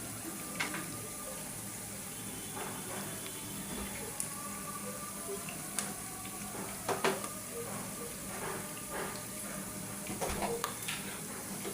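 Onions fry with goat meat for a curry, giving a steady close sizzle dotted with sharp pops and crackles. No one speaks.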